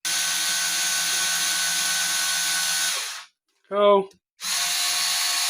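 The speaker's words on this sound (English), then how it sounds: "And I use a drill for that." A handheld power drill spins loudly and steadily for about three seconds while unwinding guitar strings. After a gap comes a short whining burst, then the drill runs again. A voice speaks briefly.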